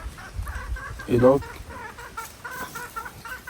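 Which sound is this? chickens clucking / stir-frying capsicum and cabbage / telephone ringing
chickens clucking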